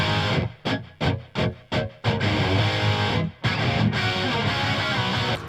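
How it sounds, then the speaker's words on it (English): Distorted electric guitars strum choppy chords that become a sustained wall of sound, washed in reverb and echoing delay. "there is a reverb and a delay on all of the guitars"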